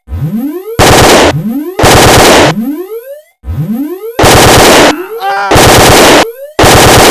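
Gunshots in loud, harsh sustained bursts that alternate with rising whining sweeps, close and dominant, with brief gaps between volleys.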